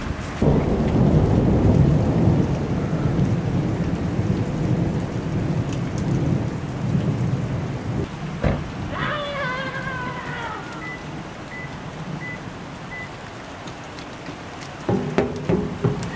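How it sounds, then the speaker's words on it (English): A thunderstorm with heavy rain pours steadily, with loud rumbling thunder rolling through the first seconds and a sharp crack near the middle, while a voice talks faintly over the rain near the end. "What a crazy thunderstorm."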